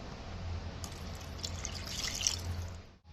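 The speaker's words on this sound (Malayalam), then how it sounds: "നമുക്കിതിലേക്ക് കുറച്ചുകൂടെ വെള്ളം ആഡ് ചെയ്ത് കൊടുക്കാം." Water is added to a pan of paneer butter masala curry, a faint close trickle and splash that swells midway and fades out, with no talking.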